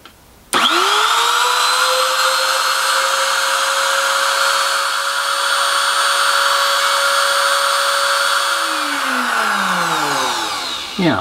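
A Katsu router is guided freehand, carving lettering into a wooden signpost. It starts with a sharp whine that holds steady and loud for about ten seconds, then winds down near the end.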